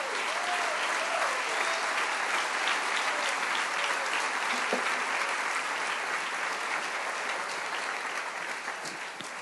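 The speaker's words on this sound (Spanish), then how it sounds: "un aplauso fuerte al Señor." A church congregation applauds loudly and continuously, a dense, even roar of many hands clapping at once that holds steady for about nine seconds.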